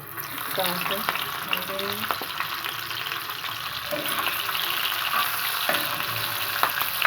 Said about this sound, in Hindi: और ये गर्म हो चुका है, तो इसमें मैं सबसे पहले कलेजी डालूँगी।